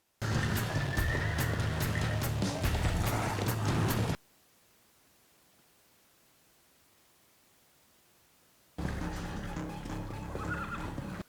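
Horses neighing and whinnying loudly and close, with scuffling and knocks, then several seconds of near silence before the noisy neighing resumes.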